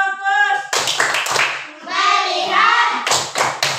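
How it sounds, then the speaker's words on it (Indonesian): A classroom ice-breaker clapping game led by a teacher, with bursts of several sharp group claps in quick rhythmic clusters between stretches of chanted speech from children and adults. "Tepuk fokus."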